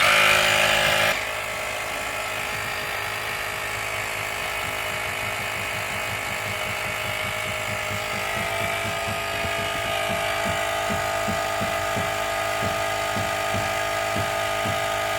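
A compressor runs steadily to push out a dented door on a Ford Mondeo, a continuous mechanical drone with a pulsing rhythm under it, starting after a brief louder burst at the very beginning and holding at an even level.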